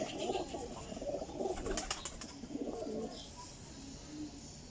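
Flying pigeons coo in low, soft, rolling calls, several birds overlapping against a steady hum of background noise.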